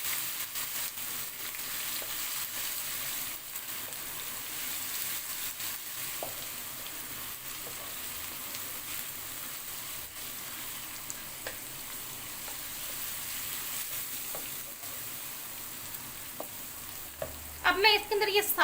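Golden brown onions for mutton yakhni pulao sizzle steadily in hot oil while being stirred, a continuous close frying hiss with scattered scrapes of the spoon, growing louder and busier in the last seconds.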